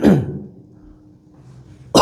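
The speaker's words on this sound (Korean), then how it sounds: "갑자기 뜬금없이 진짜 기침 많이 해가지고" Coughing and throat clearing during a Korean high-school math lesson on sets: a loud, close burst at the start, a quiet stretch, then another sharp burst at the end.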